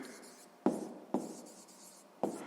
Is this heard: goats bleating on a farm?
no